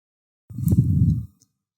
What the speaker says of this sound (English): that's a clap, that's a kick, that's a snare